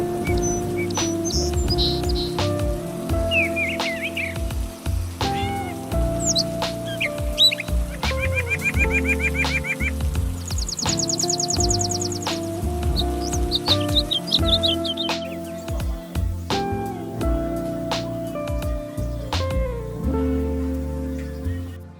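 Birds chirping and clucking outdoors on a rainy day in upstate New York, with scattered calls and tweets over a steady, full background of other sound throughout.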